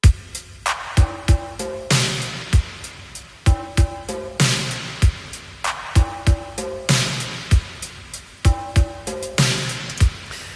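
A looping drum pattern with punchy kicks, cracking snares and steady hi-hats, repeating in a tight groove with no voices.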